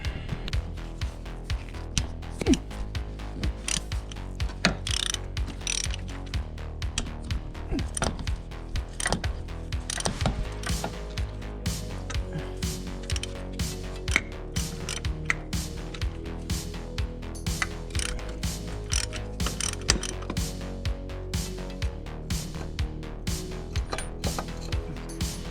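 Faint, irregular clicks and metallic ticks of a socket ratchet working bolts loose on a BMW Z3 during an oil leak repair, scattered through a long stretch of quiet workshop noise.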